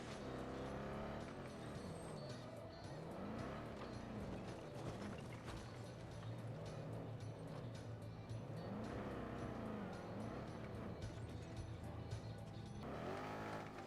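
A vehicle drives in Battlefield 2042 with a steady engine drone whose pitch rises and falls through gear changes, plus mechanical rattling and a brief sharp sound near the end.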